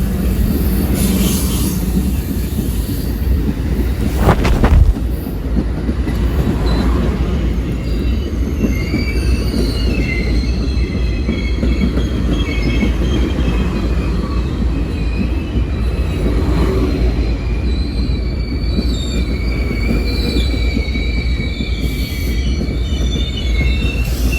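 An Amtrak passenger train of four sleeper cars, a baggage car, a sightseer lounge and three coaches rolls loudly past nearby at Whitefish, Montana, its wheels squealing and screeching over the steady rumble of the cars.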